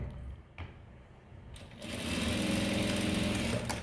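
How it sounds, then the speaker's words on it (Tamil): A sewing machine runs steadily as it stitches a blouse seam with a half-inch allowance, its close, continuous whirring starting after a couple of quieter handling sounds. "இப்போ அந்த 1/2 இன்ச்சு வச்சு இப்போ இங்கே நான் தையல் போட போகிறேன்"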